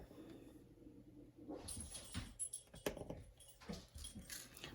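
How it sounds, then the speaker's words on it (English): Two pet dogs, Poppy and Pepper, scuffle and play close by indoors, with soft whimpers, snuffling and bursts of thumping and jingling movement, fairly quiet overall. "Good grief, my dogs."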